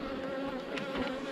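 Honeybees buzz around hive colonies during a second honey harvest, a close, steady insect drone with brief swells that runs alone and uninterrupted.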